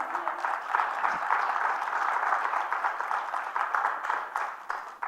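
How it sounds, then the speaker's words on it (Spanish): A church congregation claps together during a sermon, a continuous, fairly even wash of applause that fades slightly toward the end. "Dele palmas al Señor."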